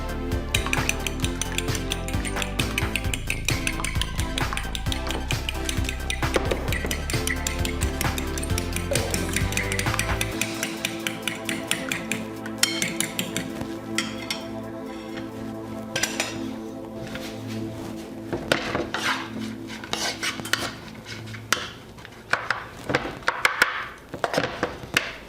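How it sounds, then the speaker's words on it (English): Eggs whisked in a bowl for spinach scrambled eggs, with rapid clinking and scraping of utensil against the bowl, loud and busy at first, then lighter, sparser taps and clinks. "we're going to scramble our eggs"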